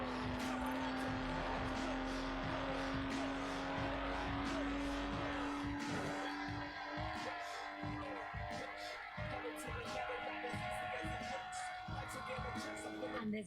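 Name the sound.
Lotus Exige car driving in Forza Horizon 4 video game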